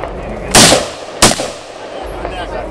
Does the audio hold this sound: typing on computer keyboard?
no